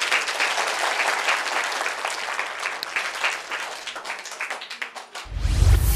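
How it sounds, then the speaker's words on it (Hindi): An audience at a community event in Gondiya, Sankalp Vihar, breaks into sustained applause, dense clapping from many hands that holds steady for several seconds before fading out. "आप मेरे लिए फिर से एक बार तालियां बजा दें।"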